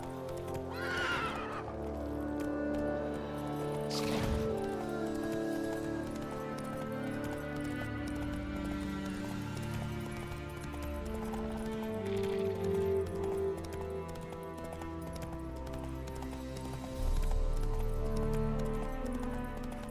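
Roach, the horse in The Witcher 3: Wild Hunt, neighs and whinnies several times while hooves clip-clop steadily beneath. The game's background music plays throughout at moderate volume.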